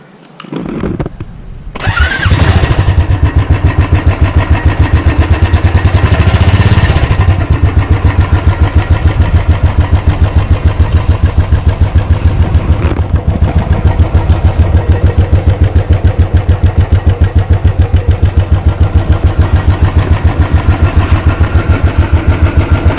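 Royal Enfield Thunderbird 350X motorcycle, two years old, starts up with a quick crank and catch, then settles into a loud, close, steady thumping idle of its exhaust note that runs on alone.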